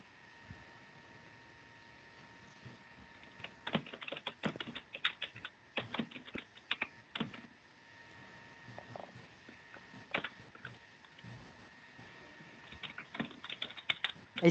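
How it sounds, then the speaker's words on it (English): Someone types on a computer keyboard in irregular flurries of clicky keystrokes, fairly close, starting after a few quiet seconds with a faint steady hum underneath. "I could hear someone typing away"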